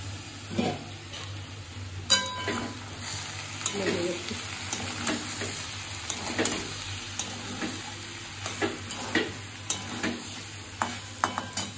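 Prawns fry in a pan with cooked rice, a continuous close sizzle broken by repeated scraping and knocking as a spoon stirs them, with no talking.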